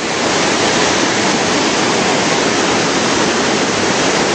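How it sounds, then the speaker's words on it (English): Broad, steady rushing water, loud and continuous, like a fast river flowing close by. "And the flow of the river."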